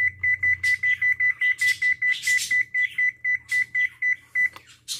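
A kitchen timer beeps in a steady run of about seventeen short, evenly spaced electronic pips while being set for a twenty-minute cook of paksiw na galunggong with ampalaya, loud and close over a low background hum.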